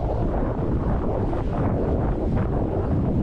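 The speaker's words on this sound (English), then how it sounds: "There it is. The wind." Steady, loud wind buffets the microphone on a lake, a constant low roaring rumble without breaks and with no voices.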